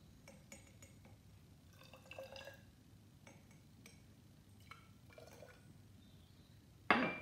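Silver nitrate solution is poured into glass boiling tubes holding halogenoalkane samples, faint liquid trickles and light glassy clinks in a quiet lab, ending with a sharp louder clink of glass.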